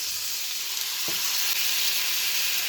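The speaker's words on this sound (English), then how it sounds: "now we're going to add some more butter, about a tablespoon of soy sauce" Butter and soy sauce sizzle with chicken in a hot pan for honey garlic chicken, a steady close frying hiss that runs throughout, with one brief soft knock partway through.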